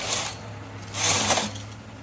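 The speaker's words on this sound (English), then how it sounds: "Then I'm going to knit 2 rows right now." A knitting machine runs its carriage across two rows of a cable pattern, making a steady mechanical whirring and clatter with two louder swells, close and without talk.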